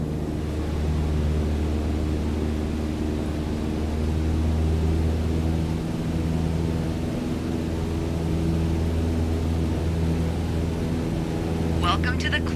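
A light airplane in Microsoft Flight Simulator climbs at full throttle, its engine giving a loud, constant droning hum with steady propeller tones, and a brief clatter sounds right at the end.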